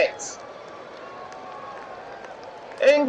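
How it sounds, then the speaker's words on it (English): England supporters at a sunny U21 Euro semi-final football match against the Netherlands give a low, steady crowd applause in the distance, with a voice talking over it at the start and the end. "England supporters applauding in the sun"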